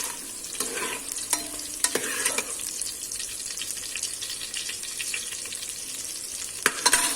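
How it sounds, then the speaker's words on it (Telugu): A ladle stirs curry leaves and other food frying in a home kitchen pan, with a steady sizzle and scraping clinks of metal on the pan, close and clear with no talking. "గెంటు తీసుకొని బాగా కలుపుకున్నామండి."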